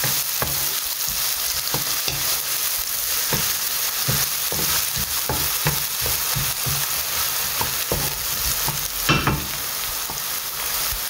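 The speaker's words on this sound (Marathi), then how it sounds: "एका आतां बरें हालयता आनी मातशें सोते जावंक दिता कांद्याक." Onions fry in a pan with a constant loud sizzle while a spatula stirs them in regular scraping strokes about twice a second, close up and without talk.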